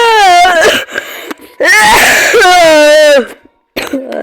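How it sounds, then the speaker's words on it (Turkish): A single person coughs loudly and close between bursts of speech, a harsh, raspy fit set among talking and laughter. "Pardon öksürüm geldi."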